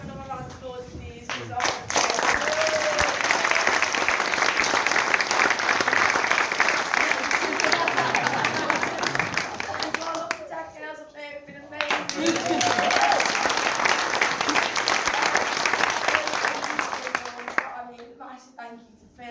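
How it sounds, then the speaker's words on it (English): An audience claps loudly in a sustained burst of applause that dips briefly before swelling again and fading out, with voices faintly audible over the clapping. "I just want to give another round of applause, please"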